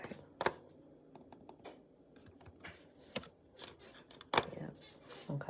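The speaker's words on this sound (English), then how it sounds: "In fact, I'll type that in for you, just in case." Keys clack on a computer keyboard in short irregular bursts, close and fairly quiet, with a few sharper clicks standing out and a faint murmur of voice underneath.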